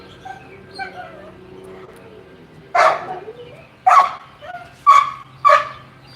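Dog letting out soft whimpers and whines, then four sharp, loud barks spaced about a second apart, close by in a quiet room.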